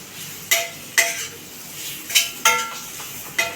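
Amla pickle being stirred with spices in a metal pan over low heat, a spoon scraping and clinking against the pan in sharp, evenly spaced knocks about every half second, close by.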